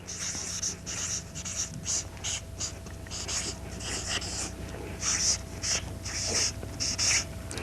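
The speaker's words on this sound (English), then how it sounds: "I'm going to write it down." A pen or pencil writing notes by hand on paper, close scratchy strokes in short repeated bursts with brief pauses between them.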